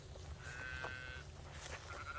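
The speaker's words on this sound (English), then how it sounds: "Getting these sheep coming." Sheep bleating as the flock is moved on a farm at dusk, a few clear, moderately distant bleats over soft outdoor ambience.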